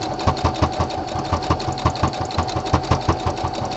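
A sewing machine runs a slow decorative top stitch for sportswear, chattering in a steady, repeating rhythm of close mechanical clacks and thumps at constant loudness, with no voices.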